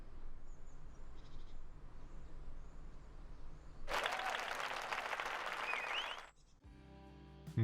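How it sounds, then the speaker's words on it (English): After quiet background noise, a burst of crowd applause from the truck simulator game Truck Life plays on unloading for about two seconds, then cuts off abruptly like a game sound effect. "Get ready for the grand applause."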